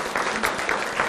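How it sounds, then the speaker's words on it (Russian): Studio audience at a Kazan university talk show applauding a guest, a dense burst of clapping throughout, loud and close. "Ваш аплодисмент."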